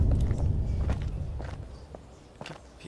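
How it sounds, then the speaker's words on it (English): Footsteps in the video game Lichdom: Battlemage, a run of soft, fairly close steps over a low droning ambient bed, fading slightly toward the end with no talk. "Hearing footsteps, and they don't sound like my own."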